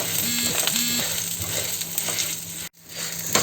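Dal and tamarind sizzling and being stirred in a hot pan, a steady broadband frying hiss with a few scraping stir strokes, close and continuous before a brief drop near the end.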